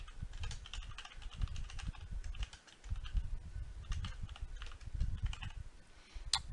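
Rapid keystrokes on a computer keyboard while a name is typed into a new framework field in the MosaiQ software, a steady run of close, light clicks with no talk.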